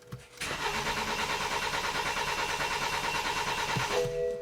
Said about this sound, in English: let's crank it. So as you can hear, this engine sounds nice and consistent